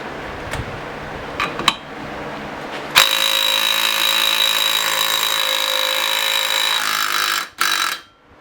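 A cordless impact wrench hammers loudly against a bolt torqued to 130 foot-pounds, a dense rattling burst of about four seconds after a few light clicks, then cutting out as the bolt breaks loose.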